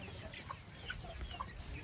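Heritage and native chickens clucking softly in short scattered calls over a steady outdoor background hum in the rain, fairly quiet and a little distant.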